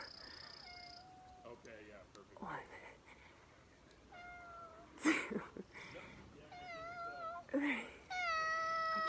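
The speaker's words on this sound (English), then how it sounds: "cat is meowing in the background" A cat meows repeatedly in the background, with several short and drawn-out cries scattered through a room where people talk and laugh during a dog-squatting exercise.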